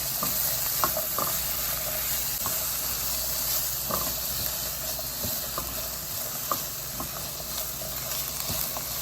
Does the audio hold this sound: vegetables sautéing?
yes